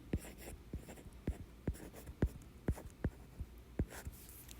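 A pen scratching out a distance formula on paper, a run of short, soft strokes in an irregular rhythm, close and quiet, with no talking.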